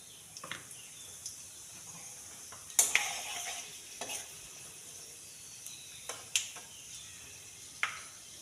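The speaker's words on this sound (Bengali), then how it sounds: "এতে শুকনো লঙ্কা দিয়ে দেব। আর 1 চামচ 5 ফোড়ন দিয়ে দেব।" Dry red chillies and a spoonful of five-spice crackle in hot oil for a Bengali jujube pickle, a faint steady sizzle broken by a few sharp clicks and stirring knocks, with no talking.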